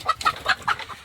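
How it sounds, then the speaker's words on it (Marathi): Chickens cluck in a small wire-mesh coop: a quick, close run of about five sharp clucks in an uneven rhythm, with no talking. "हे आमचं कोंबड्यांचं छोटंसं घर आहे, जाळी केली किती कोंबड्या त्याच्यातमध्ये"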